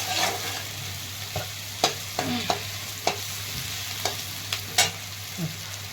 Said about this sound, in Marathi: छान असा परतून घेते हा कांदा